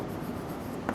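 Pen or chalk writing out a solution during a Class 10 coordinate geometry lesson, a steady soft scratching that runs through the whole second with a brief louder stroke near the end.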